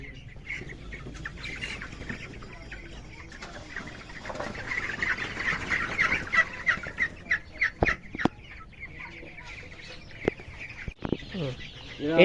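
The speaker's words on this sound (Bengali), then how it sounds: "কিন্তু খুব সুন্দর দেখতে মুরগিগুলো" Chickens cluck and call repeatedly at a poultry market with turkeys and silkies, a busy close chorus of clucks over farmyard noise, joined by a few sharp knocks near the end.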